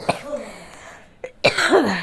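Two short, harsh coughs ring out close up, about a second apart, with quiet room sound between them.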